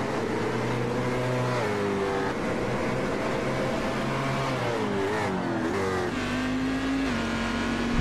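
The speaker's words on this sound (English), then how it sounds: "This is going to be a tough one in the first lap with cars going side by side." Race cars roar around Daytona in a racing video game, engines droning loudly and continuously, with several cars running side by side, pitches rising and shifting as they accelerate and pass.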